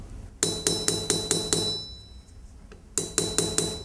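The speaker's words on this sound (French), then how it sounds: "je fais un matage pour faire un rivetage arrondi, ce qu'on appelle le chapeau chinois." A hammer peens a rivet on a traditional Basque knife, giving a quick series of sharp metallic taps, a short pause, then several more ringing strikes, close and fairly quiet.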